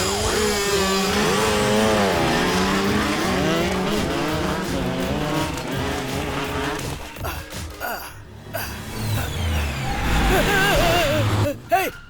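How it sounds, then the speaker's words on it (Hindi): Vehicle engine revving and roaring close by on a road, continuous and loud with pitch sweeps, followed by a skid-like screech; voices shout briefly near the end. Engine type cannot be confirmed as a motorbike. "किस तरह बाइक चला रहा है?"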